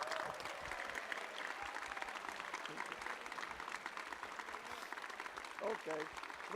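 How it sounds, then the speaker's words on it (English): Audience applause at a European RoboCup 2022 awards ceremony, a dense, steady wash of clapping from a crowd that continues for several seconds, heard faintly and at a distance, with a voice briefly audible near the end. "Big round of applause for all of you."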